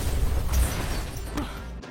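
An ambulance blows up in a film scene, a heavy low boom that rolls on for about two seconds with a second burst of debris near the end.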